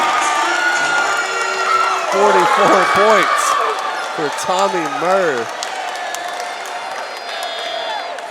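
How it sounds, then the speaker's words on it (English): A high school basketball crowd at Lindsay Lane Christian versus New Site roars and cheers after a 3-point shot in a tied game, loud and sustained throughout, with an announcer talking over it. "The crowd behind us is loving it."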